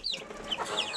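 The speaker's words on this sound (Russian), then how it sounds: "моя курочка, которая вывела цыплят" A hen with her month-old chicks makes soft close clucks mixed with high thin chick peeps, a quick busy run of small calls.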